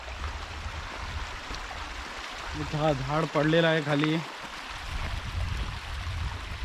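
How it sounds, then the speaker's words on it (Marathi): A small river streams steadily past a trekking trail to Siddheshwar Waterfall in Alibaug, a continuous soft rush of flowing water, with someone talking briefly over it midway. "पाणी झुळझुळ वाहत आहे"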